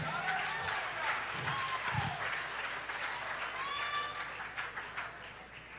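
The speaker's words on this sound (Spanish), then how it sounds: "Aplaude al Señor." Church congregation applauding during a Spanish-language sermon, a steady wash of clapping throughout with scattered voices and brief speech-like bursts underneath.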